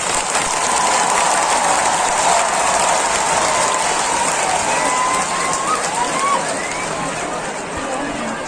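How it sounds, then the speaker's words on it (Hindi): Sustained applause from an audience at a lively Bubagra event, a dense, steady wash of clapping that stays loud throughout and eases slightly near the end, with voices and crowd noise mixed in. "सबसे बड़ा ताली आपको होना चाहिए"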